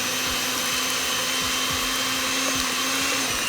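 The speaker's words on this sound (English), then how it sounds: "By the way, I have this cheap ass mixer." A cheap electric hand mixer whirs steadily through snickerdoodle dough, a constant motor hum with a soft rhythmic thumping as the beaters churn, close and alone.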